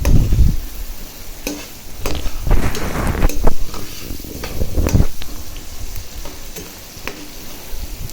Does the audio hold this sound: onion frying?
yes